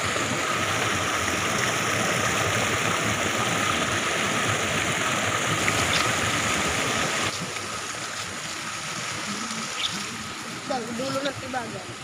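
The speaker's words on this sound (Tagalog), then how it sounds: "Wala nang ginawa yung tubig kundi umagos." Clear water flowing at the end of Tibagan falls, a steady loud rushing that drops somewhat partway through, with a voice speaking faintly over it near the end.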